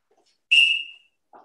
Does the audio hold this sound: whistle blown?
yes